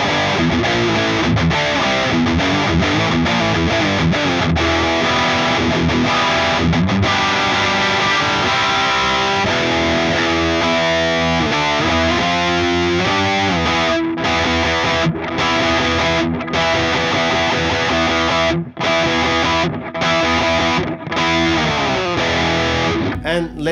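A Jackson KV Pro electric guitar plays through a high-gain Marshall JCM800 2210 amp, giving thick, distorted riffs and sustained chords that run continuously and loudly, with abrupt stops near the end.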